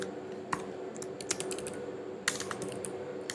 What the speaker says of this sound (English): I'm sorry for the sound caused by my keyboard.